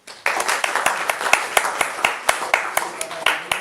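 Applause at a youth dialogue event on AI, with distinct separate claps in a fairly sparse rhythm from a modest audience, continuing steadily at moderate loudness for a few seconds.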